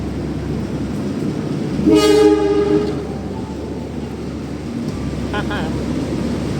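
At Tugu Yogyakarta railway station, a train rumbles along the platform and sounds a loud horn blast of about a second, with another brief horn later, under steady station ambience and some talking.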